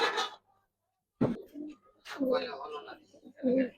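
Silver Giribaz pigeons cooing close by in short, soft throaty bursts, with a quiet gap between calls and a voice talking alongside.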